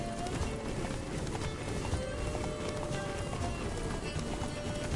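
Horse galloping in The Witcher 3: Blood and Wine, a fast, continuous clatter of hooves held at a steady rhythm throughout.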